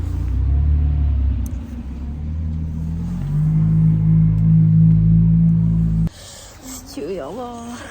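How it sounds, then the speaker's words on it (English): A car drives in outside a mosque, its low engine rumble building steadily and growing louder for several seconds before cutting off, after which a voice is heard. "A car drove in."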